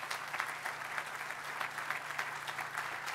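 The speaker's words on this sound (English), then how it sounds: "Please give him another round of applause." An outdoor crowd at the Virginia Tech Innovation Campus groundbreaking gives another round of applause, a continuous, moderately faint patter of many hands with a low steady hum beneath it.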